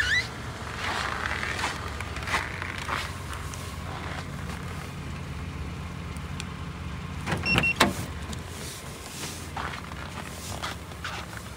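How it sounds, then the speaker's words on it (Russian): A Suzuki Jimny idles outdoors at -42°C in a Yakutia winter, a steady low engine hum that holds evenly throughout, broken by a few brief clicks and thumps midway. "Приехал на тренировку, оставляю машину заведенную."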